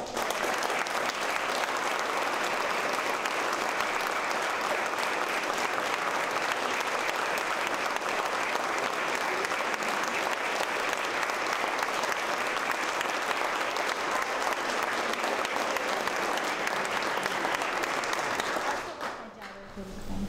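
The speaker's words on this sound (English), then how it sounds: "Please give a round of applause." Sustained, dense audience applause fills an award acceptance event for the Military Amputee Research Program, staying loud and even for about nineteen seconds before cutting off abruptly.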